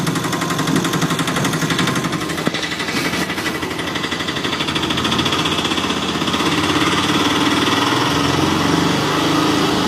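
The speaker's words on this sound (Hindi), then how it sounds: "रघु बिना देर किए इंजन स्टार्ट कर देता है।" A tempo auto-rickshaw's small engine running steadily with a fast, rattling, buzzy putter, loud and close throughout, without any voices.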